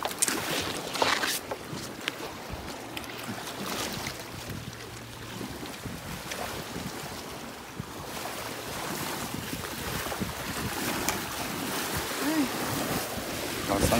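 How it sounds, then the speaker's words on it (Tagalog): Strong lake waves slap around a small fishing boat near Talim Island, with steady wind buffeting the microphone throughout; the wash and gusts stay loud and continuous, without clear speech. "Lakas kasi ng alon."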